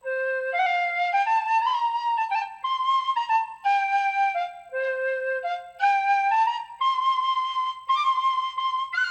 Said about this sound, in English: We've got Irish Folk Whistle, and that's what we'll start with.